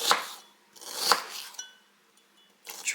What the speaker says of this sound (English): I'm just going to slice it in thin slices.